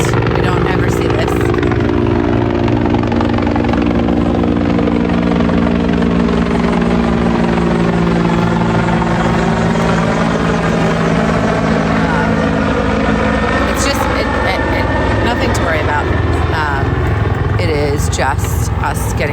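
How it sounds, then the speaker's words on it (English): A helicopter roars loud and steady overhead throughout, its rotor drone filling the clip while a person talks underneath. "I don't know if you guys can hear me over the helicopter."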